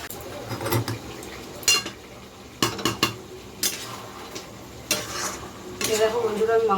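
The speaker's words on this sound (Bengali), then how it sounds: "মশলাটা এবার নেড়ে নিচ্ছি" A utensil stirs cumin, onion, garlic and chili with spices in a cooking pot for biryani, giving scraping strokes and metallic clinks in irregular bursts over a steady soft sizzle.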